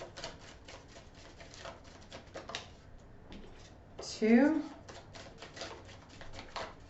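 Crisp, rapid flutters of tarot cards being shuffled nearby, several bursts with brief pauses between, and a voice briefly speaking over one of them.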